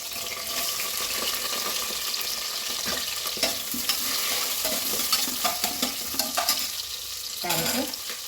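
Onions frying in a pan for vegetable rice, a steady sizzle with repeated scrapes and clinks of a spoon stirring against the pan, close and moderately loud, no talking.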